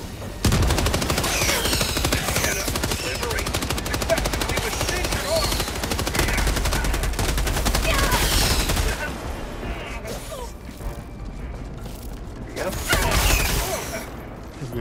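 In the Helldivers 2 game, dense rapid gunfire rattles continuously at close range, then eases into scattered shots with a heavier burst near the end, suggesting grenade blasts, with voices talking over it.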